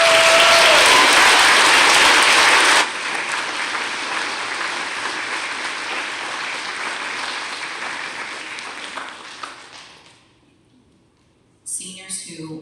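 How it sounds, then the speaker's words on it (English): Loud applause from a large audience at a high school honor society induction, swelling at first then gradually thinning and fading to near silence, followed by a brief sound at the end. "can we give the seniors one more round of applause?"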